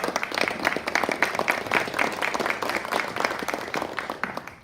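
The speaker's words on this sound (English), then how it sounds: "If you want to give them a round of applause." Applause from a lunch audience at a community event, a steady patter of many hands clapping at moderate distance that fades slightly toward the end.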